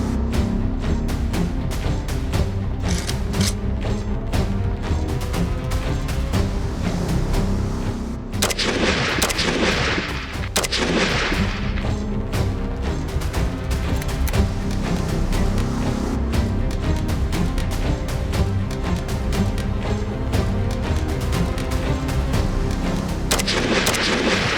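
Military weapons fire on a firing range during a shooting test: rapid, repeated loud shots and booms pound almost without pause, with brief lulls before the barrage resumes.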